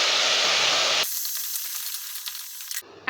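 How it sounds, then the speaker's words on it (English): Steam hissing from a lidded pot of cooking carrots: a loud, steady broadband hiss that drops to a thinner, brighter sizzle partway through, then cuts off near the end. "when you close the lid, you are already giving the opportunity for the carrots to be cooked with the steam"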